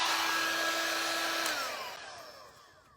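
A blow dryer fitted with a resin-work attachment runs loud and steady, drying wood stain on a piece of furniture, its whine holding for a moment and then sliding down in pitch as the airflow fades out.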